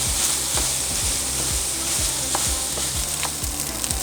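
Sausage frying in a pan, a loud, dense, constant sizzle of spitting grease, close and continuous, with a regular ticking pulse running beneath it.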